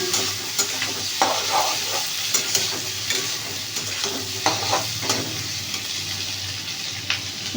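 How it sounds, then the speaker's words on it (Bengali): Onions and capsicum sizzle in hot oil in a pan for chili chicken, a steady frying hiss broken by repeated scraping stirs of a spatula. "ক্যাপসিকাম দিচ্ছি এবার এগুলোকে ভালো করে ভেজে নেব"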